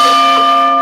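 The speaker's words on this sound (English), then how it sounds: "Ring the bell one time for the firm." A single bell struck once, a bright sustained ring with clear overtones that fades slowly, loud and alone.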